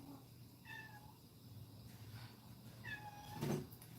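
A house cat meows twice at moderate distance, asking to be fed, the short rising calls standing out over a steady low room hum with no talk.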